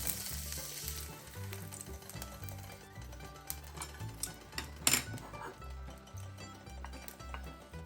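Salmon fillets sizzle and crackle in an electric griddle pan that heats from top and bottom, a steady close frying hiss with small pops and occasional louder spatters, no talking.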